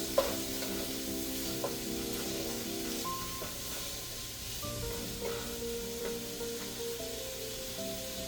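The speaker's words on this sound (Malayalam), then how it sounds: "അല്പം ഉപ്പ് കൂടി ചേർത്ത് നന്നായിട്ട് വഴറ്റിയെടുക്കുക." Onions sauté with salt in a pan for chicken curry, a continuous close sizzle with occasional light scrapes and taps of stirring, and no voices.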